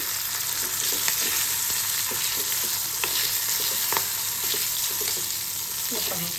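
Green chillies fry in a pan while being stirred, a constant loud sizzle with occasional scraping stir strokes and light clinks close by; no one speaks.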